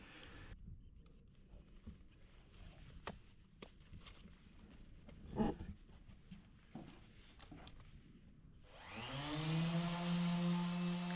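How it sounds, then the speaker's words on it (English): A needle gun attacking rusted spots on a steel boat hull: faint scattered knocks and clatter at first, then the air tool kicks in loudly near the end with a harsh, sustained buzzing rattle. "I'll quickly tackle the spots that suffered the most rust with the mighty needle gun"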